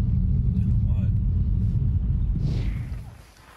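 A car rolls through a snowy parking lot in Schierke in the Harz mountains in winter, engine rumbling steadily up close, then slowing and braking as the noise fades near the end; voices speak inside.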